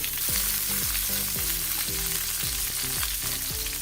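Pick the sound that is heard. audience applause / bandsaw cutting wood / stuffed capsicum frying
stuffed capsicum frying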